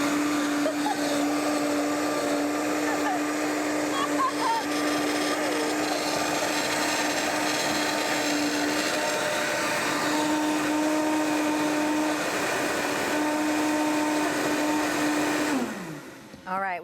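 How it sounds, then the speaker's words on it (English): A blender pureeing corn soup in a studio kitchen runs at high speed with a loud, steady whir for about fifteen seconds, then winds down abruptly at the end. "And we'll turn the blender on. And we're gonna turn it way up."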